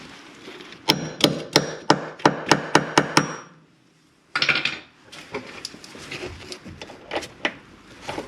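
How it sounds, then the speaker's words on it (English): Hammer blows ring out against rusted rear shocks on a 2014 Nissan Pathfinder, a quick run of about eight sharp metallic strikes, then a pause before a looser, busier stretch of knocks and clatter. "Don't be afraid to hammer them on. You gotta break through all that rust."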